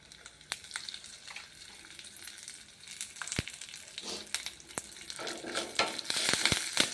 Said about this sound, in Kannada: ಕರಿಬೇವು ಹಾಕಿ ಒಗ್ಗರಣೆ ರೆಡಿ